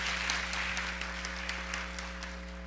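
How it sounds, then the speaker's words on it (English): Audience applause at a primary school Student of the Year awards ceremony in the Bahamas, steady clapping from a crowd filling the room, moderately distant and even throughout, with a low hum underneath. "Give them another round of applause"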